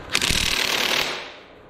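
A brand-new impact wrench hammers on a bolt in one short, loud rattling burst of rapid impacts that winds down within about a second.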